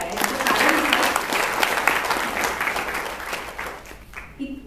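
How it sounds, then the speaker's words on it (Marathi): An audience at a poetry book launch ceremony breaks into hearty applause, a dense burst of clapping that swells then fades toward the end, close and full. "या दोघांसाठी एकदा जोरदार टाळ्या"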